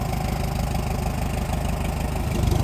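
An old tractor engine, parked for years and with many small faults, chugs at a steady idle with an even low throb. It is close and continuous, with no talk over it.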